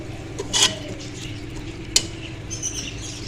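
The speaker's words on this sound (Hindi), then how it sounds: "इस दही को डाल के आपने अच्छे से भून लेना है इसको" Yogurt and potatoes stirred and sautéed in a pan for aloo methi, with a steady low sizzle and two brief sharp scraping clinks of a utensil against the pan, close and alone.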